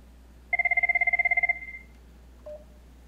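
A Cisco desk phone rings during a routine-level call between two Cisco phones: one loud, rapid warbling electronic ring burst lasting about a second, then a short quiet tone, with steady background hum.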